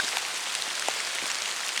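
Rain pours steadily in a forest, a dense even hiss of drops with no other sound.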